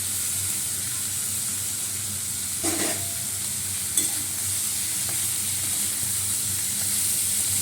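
Shrimp, chopped onion, tomato and potato fry together in a pan with a steady, close sizzle and hiss, broken by a couple of sharp scrapes and knocks from stirring, no voices.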